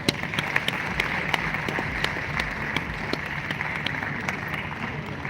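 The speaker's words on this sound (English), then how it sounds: "Another round of applause, please." An audience in Cubbon Park, Bengaluru, applauds tennis player Rohan Bopanna with steady, close clapping and sharp individual claps, sustained evenly for several seconds.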